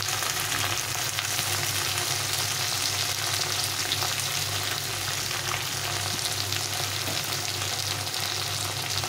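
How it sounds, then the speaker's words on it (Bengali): Ginger, cumin paste and green chillies sautéing in a pan, a continuous, even, close sizzle of frying with light stirring, no voices. "এটাকে এখন ভালো করে কষে নিতে হবে"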